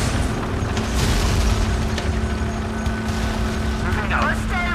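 Artillery vehicles firing in the video game Tom Clancy's EndWar: heavy booming blasts and rumbling engine noise, dense and continuous, with a voice speaking over the din.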